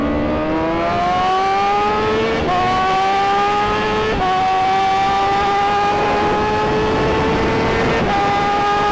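A Honda Fireblade inline-four motorcycle engine revs hard and loud up through the gears. The pitch climbs steadily, with brief dips at each shift, in a continuous close roar with no one talking.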